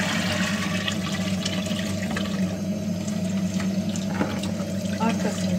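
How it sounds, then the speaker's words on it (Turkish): Soaked parsley and iceberg lettuce are squeezed by hand, giving a steady, close rush of running and dripping water for several seconds. "Suyun içinde biraz beklettiğim maydanozla iceberg'i sıkıyorum."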